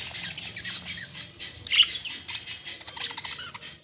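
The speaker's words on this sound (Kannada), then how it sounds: "ಕಲರ್ಫುಲ್ ಇದೆ, ಆ್ಯಕ್ಟಿವ್ ಇದೆ ಬಡ್ಜೀಸ್." Many budgies chirp and chatter together nearby, a busy overlapping stream of bright tweets and squawks.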